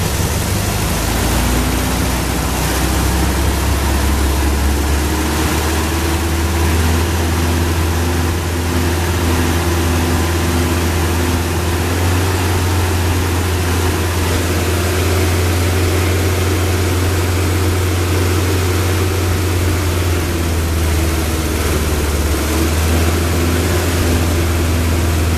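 An MGB engine fitted with a Weber DCOE carburettor and long branch manifold is held at raised revs around 3500 RPM, a loud steady drone with a constant hum throughout and no talking.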